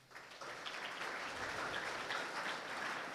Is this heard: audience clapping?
yes